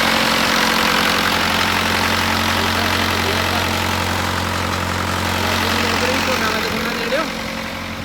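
A self-start generator engine powering two farm water pumps drones steadily and loudly nearby, a constant low hum that eases slightly near the end.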